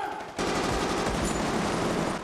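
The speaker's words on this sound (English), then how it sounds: "It's just nothing but atmosphere and gunshots." Dense, continuous gunfire from a battle scene in the 2024 film Civil War, loud and sustained bursts with no music, starting abruptly after a brief quieter moment.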